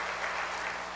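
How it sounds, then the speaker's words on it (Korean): A church congregation applauds the choir at an evening revival meeting, a brief, steady wash of clapping filling the hall. "우리 찬양대에게 박수 한번."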